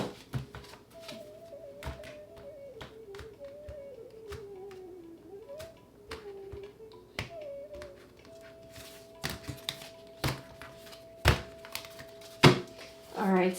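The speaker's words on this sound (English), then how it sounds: "Last shuffle." Tarot cards are shuffled during a reading, making scattered soft taps and brief riffling bursts that grow sharper near the end over a faint sustained tone.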